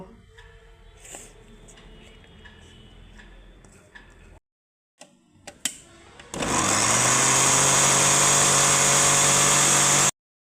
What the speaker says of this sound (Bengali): তো বন্ধুরা আমরা আগে রুটিটা ব্লেন্ড করে নেব